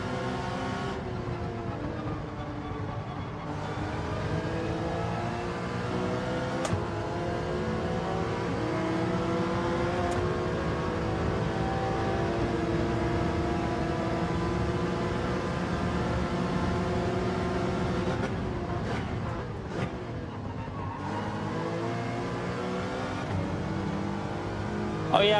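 Porsche race car engine in Gran Turismo 7, a sustained high-revving drone that climbs in pitch, drops sharply at gear shifts, then climbs again, loud and continuous.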